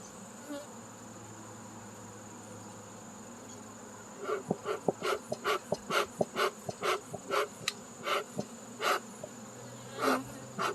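Honeybees buzzing around an open hive during an inspection on a farm, with smoke in use: a steady insect hum under a run of louder, close passes of individual bees darting near, alone with no talk.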